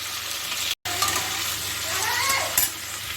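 Pointed gourd and potato pieces fry lightly together in a pan, a close sizzle with faint stirring scrapes, cut by a brief gap of silence.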